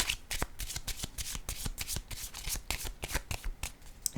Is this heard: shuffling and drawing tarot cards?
yes